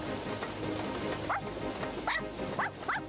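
Several short, yappy dog barks come in quick succession over a steady background hiss, moderately close.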